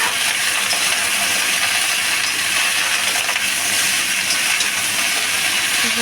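Bottle gourd stems frying with potatoes in a pan, a steady broadband sizzle that holds close and even throughout, with faint clinks over it and no voices.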